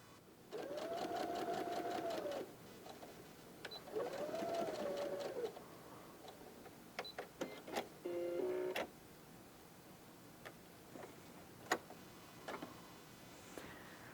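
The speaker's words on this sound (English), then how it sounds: "we're going to sew at 1/4 inch" A sewing machine stitches a quilt block seam in two short whirring runs, near and clear, then quiet fabric handling and scattered light clicks follow, with a faint bird call in the background.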